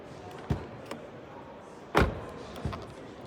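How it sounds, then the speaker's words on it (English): A Toyota C-HR+ AWD door is opened and shut several times, giving a few distinct thuds and clicks, the loudest near the middle, with quiet room tone between them. "Classical Toyota opening and closing sound."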